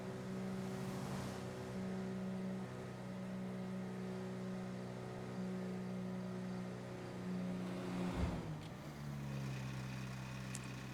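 A damaged car engine idling in Grand Theft Auto V, a steady low droning hum with a rough, uneven undertone, a brief lurch and shift in pitch partway through, with no voices.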